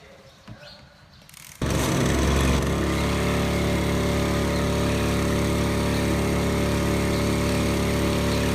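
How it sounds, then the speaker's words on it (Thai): The small engine of a power sprayer starts up after a quiet moment and then runs loudly and steadily at close range, a constant droning whine that continues to the end. "เวลาเราเร่งเครื่องเราเร่งไม่ต้องเยอะ"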